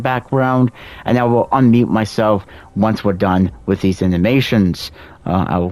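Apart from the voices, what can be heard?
No everyday noise stands out behind the speech.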